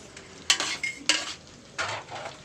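Minada stirring in a frying pan, with a few distinct scraping strokes over a steady low sizzle, close and moderately loud, no talk.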